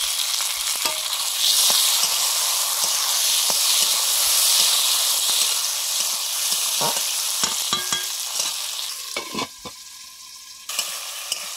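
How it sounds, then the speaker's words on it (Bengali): Chopped tomatoes drop into a pan of fried onions, raising a loud, steady sizzle with hissing steam and scraping stirs, prawns and Malabar spinach seeds on the menu; the frying eases near the end, no voices. "পেঁয়াজ ভাজা হয়ে গেছে, এবারে দিলাম টমেটো কুচি।"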